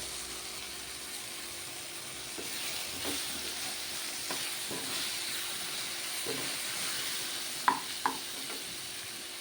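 Eggplant and green chillies simmering on a low flame, giving a soft, steady hiss and bubbling with a few faint clinks near the end.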